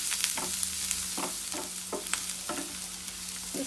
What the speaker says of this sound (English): this onion will get fried along with the lady's fingers also